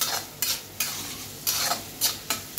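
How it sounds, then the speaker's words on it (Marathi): Two large chopped onions stir-frying on high flame in a pan for a spicy Maharashtrian chicken, a steady close sizzle broken by several sharp scraping stirs of a spatula, no voices. "कांदे तुम्हाला चांगले गोल्डन ब्राऊन होईल ना तोपर्यंत परतून घ्यायचं आहे"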